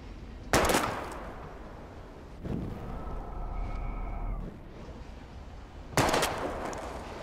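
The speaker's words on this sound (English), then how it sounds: "We're gonna shoot all these bottles without wasting a single bullet." Two sharp, loud gunshots, spaced several seconds apart, fire at bottles in Life Is Strange, with a low rumbling passage between them.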